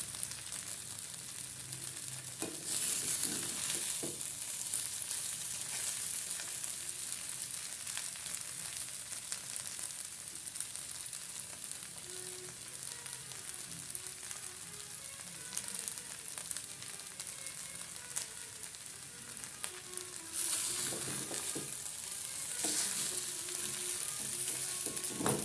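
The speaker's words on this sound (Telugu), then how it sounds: "కొంచెం పచ్చిదనం పోయేంత వరకు మనం ఇలా వేయించుకుంటే బాగుంటుంది" Sabudana khichdi sizzles and crackles steadily as it fries in a pan, a dense broadband hiss that swells louder at the start and again near the end, with faint scraping of stirring underneath and no voices.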